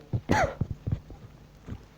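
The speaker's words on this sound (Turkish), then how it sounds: "yine öksürüyorum" A person who is ill coughs once sharply, followed by a few softer throat sounds and breaths, close to the microphone.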